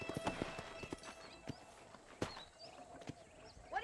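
Horse hooves in the Red Dead Redemption video game, a quick irregular clip-clop of hoofbeats at moderate distance, fairly faint, with light ambient game sounds and a brief whinny-like tone.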